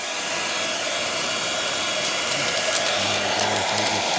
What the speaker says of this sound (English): we're just using a hairdryer, but you could use a heat gun.